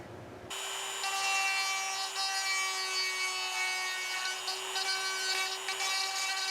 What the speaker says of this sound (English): So I make that void with the conical cutter and the Dremel tool.